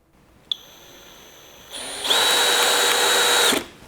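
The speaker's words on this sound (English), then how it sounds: "We're going to set our hammer drill in drill mode." A cordless hammer drill in drill mode at speed 1 whirs up, then bears down as it drives a number 2, 1 5/8-inch screw for over a second before spinning free and stopping, close and loud.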